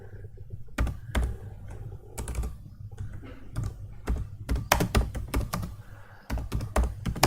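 Rapid clacking keystrokes on a computer keyboard, close and crisp, come in uneven bursts with brief pauses between.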